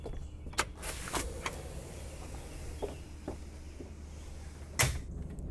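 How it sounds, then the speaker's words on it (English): A sliding door on a 2022 Bavaria SR41 yacht, with soft clunks and rattles as it is moved and latched, faint and close in a quiet cabin, without any talking. "So we can slide this first door over."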